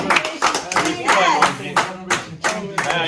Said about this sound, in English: let's give a round of applause for my man